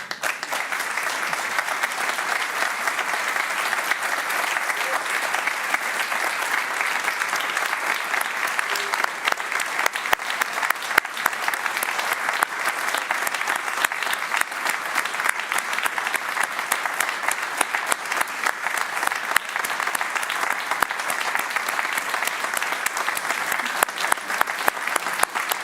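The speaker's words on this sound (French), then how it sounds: "Je crois que vous pouvez l'applaudir." A congregation applauds at length after a Good Friday celebration, a steady, evenly sustained roar of many hands clapping for over twenty-five seconds without a break or voices.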